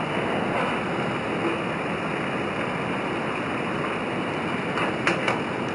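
Water boiling vigorously in an Imusa large mug, a steady, dense rushing bubble that holds close and even throughout, with a few faint clicks near the end.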